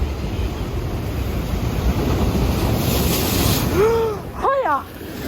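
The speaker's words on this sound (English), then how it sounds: "as you can see, the waves were starting to break close in" Sea waves break close in on the shore at Staithes on the UK coast, a loud continuous surf wash with heavy wind buffeting the microphone, and near the end a few sharp rising bird-like calls cut through.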